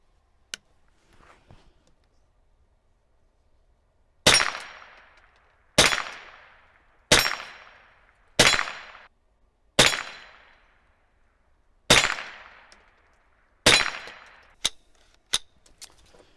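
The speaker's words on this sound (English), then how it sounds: "let's shoot the dueling tree." Winchester Model 74 rifle firing at a steel dueling tree outdoors: about nine sharp shots at irregular intervals with ringing metallic decay after each, then a few quicker reports near the end, no talk.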